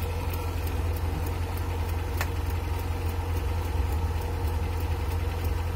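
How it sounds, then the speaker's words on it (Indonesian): A Suzuki Carry engine idles steadily nearby with its headlights on, a constant low mechanical hum and rhythmic ticking without talk. "Mesin masih hidup"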